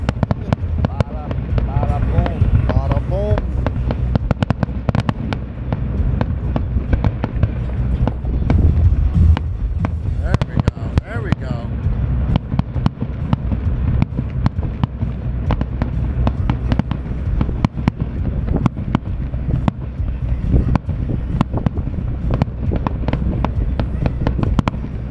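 Fireworks bursting over Toms River, heard from a boat on the water: repeated sharp booms and crackles over a rumbling background with wind noise, and people's voices mixed in.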